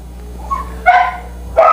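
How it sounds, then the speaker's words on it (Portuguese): A dog barks nearby, a few loud, sharp yips and barks spaced apart against a quiet indoor background. "O cachorro tá latindo, meu Deus do céu."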